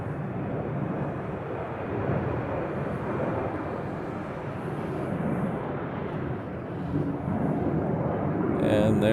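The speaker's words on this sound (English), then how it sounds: "These are KC-135s. They're air-to-air refuelers." A KC-135 air-to-air refueling aircraft passes overhead as a broad, steady jet roar that fills the air for several seconds, mixed with wind buffeting, while a person speaks over it.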